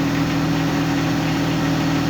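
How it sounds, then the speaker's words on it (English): A tractor engine idles on a farm, a steady low droning rumble with a constant mechanical hum, close and unbroken, with no voices. "There's Shauna and her tractor companion."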